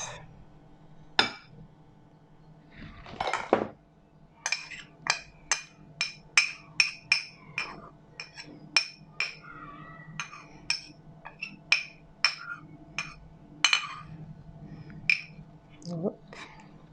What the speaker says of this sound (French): J'ai mis mon sucre et mon sucre vanillé que je vais blanchir avec les jaunes d'œufs.